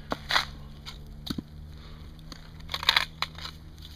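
Loose broken pieces inside a smashed hard drive with busted pins rattle and crunch in short, uneven bursts, close up and fairly quiet, with no talking.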